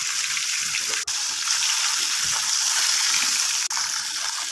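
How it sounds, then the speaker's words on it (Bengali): Rohu fish pieces shallow-frying in a pan give off a steady, loud, bright hiss that runs through the whole stretch, broken by two very brief dropouts. "এখন আমি মাছগুলো ভেজে নিচ্ছি"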